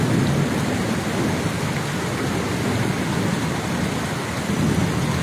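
Heavy rain pours steadily in Chittagong, a dense, continuous roar of downpour close by with low rumbling beneath, constant in loudness throughout and no voices.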